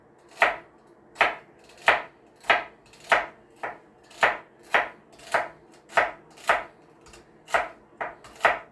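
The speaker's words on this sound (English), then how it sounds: "Like I said, we still cutting up that celery." Celery stalks being chopped on a cutting board by hand, with about fourteen crisp, sharp knife strikes at a steady rhythm, loud and close, with no talking.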